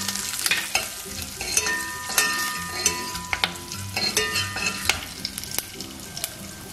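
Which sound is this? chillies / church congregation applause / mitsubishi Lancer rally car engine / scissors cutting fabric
chillies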